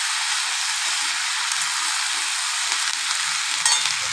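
Onions and washed vegetables frying in a pan, a steady dense sizzle running close and loud throughout, with a brief clatter of stirring near the end.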